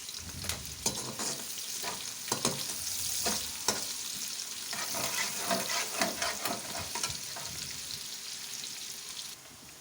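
Onion fries in oil in a pan, sizzling steadily while a utensil stirs and scrapes, with sharp clicks and crackles over a constant frying hiss.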